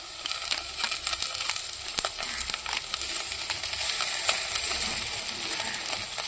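Turmeric, chili powder, ginger and sambar masala frying in a pan, a bright continuous sizzle with scattered crackles and a few clinks, growing steadier and louder toward the end.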